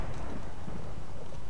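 Thunderstorm in the Minecraft video game, a low rumbling wash of rain and distant thunder, steady and fairly quiet throughout.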